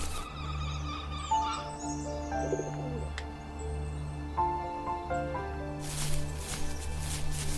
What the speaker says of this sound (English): Birds, okay.